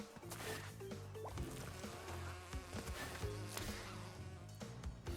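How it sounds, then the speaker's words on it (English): An insect buzz from a beehive in the video game Crash Bandicoot 2 drones steadily under busy game music and effects, continuous and moderately loud throughout. "Do I have to break the beehive before the bee comes out?"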